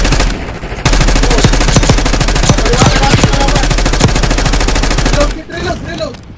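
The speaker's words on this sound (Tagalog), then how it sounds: "Palitan lang ng putok." Rapid gunfire exchange in a shooter video game, loud automatic bursts of closely spaced shots running continuously for several seconds before cutting off, with faint in-game sounds after.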